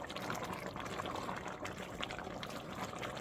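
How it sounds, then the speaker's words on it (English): A pot of vegan Tuscan white bean soup is stirred, giving faint, steady wet sloshing and bubbling with soft scraping throughout and no talk. "Let's give it a stir"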